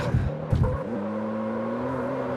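A car's engine and exhaust in the CarX Street racing game hum steadily at a constant pitch, with a couple of brief thumps at the start and a slight rise in tone; fairly quiet and alone.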